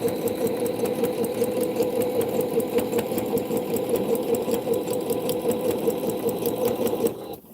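A sewing machine stitches quilt binding in one long run, a rapid rhythmic mechanical whirring and ticking close by, ending abruptly as it stops near the end.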